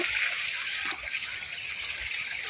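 Steady rushing floodwater flows continuously across a road after days of rain, a broad hiss-like wash with no voices, fairly close and even throughout.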